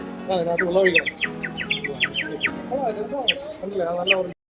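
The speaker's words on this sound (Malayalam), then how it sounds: "ഇതൊരു ക്യൂട്ടായിട്ടുള്ളൊരു വിസിലാണ് കേട്ടോ. നമുക്ക് കിളികളുടെ ശബ്ദമൊക്കെ ഇത് കേൾക്കാൻ പറ്റും." A warbling water-filled bird-call whistle toy, a handmade craft, trills in quick, bubbly bursts, loud and close, repeating for several seconds before stopping abruptly.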